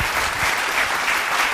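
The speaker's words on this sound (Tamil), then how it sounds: "கைத்தட்டு." Audience applause fills a church during a sermon, a steady, dense patter of many hands clapping at moderate volume, continuous and without voices.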